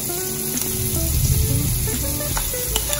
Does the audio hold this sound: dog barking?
no